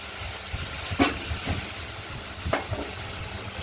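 A ground spice paste mixed with turmeric hisses and sizzles in a hot wok while frying for a katla fish curry with potatoes, with a steady close-up sizzle and a few soft stirring knocks.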